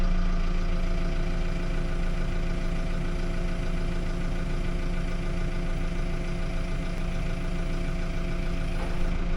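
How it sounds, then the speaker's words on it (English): A RoGator sprayer tractor's engine idles steadily and loudly up close, a constant low rumble with no talk over it. "I'm gonna go start the tractor, lift it just a hair, come back, take a look"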